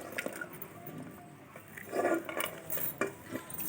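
Spoon scraping and clinking in a bowl while ugadi pachadi is mixed from salt, chili, coconut pieces, neem flowers and raw mango pieces; soft, irregular stirring with a few sharper knocks, close and fairly quiet.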